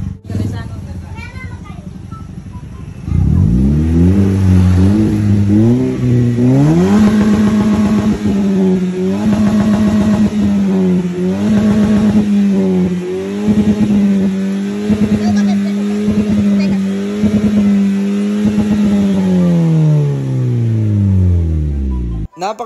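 A car fitted with a cat-back exhaust idles, then revs repeatedly and loudly up close, each throttle blip rising and falling in a deep, smooth drone over about twenty seconds before cutting off.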